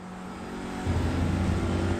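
Race car engine in iRacing, an IMSA Michelin Pilot TCR touring car at Road America, droning steadily then jumping to a louder, lower-pitched tone midway as it upshifts and accelerates, heard alone without talk.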